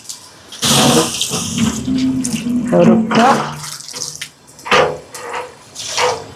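Water gushes from a tap in loud splashing bursts, starting and stopping several times, close by with a clattering vessel.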